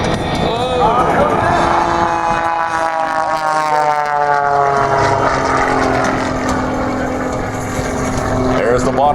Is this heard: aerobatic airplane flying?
yes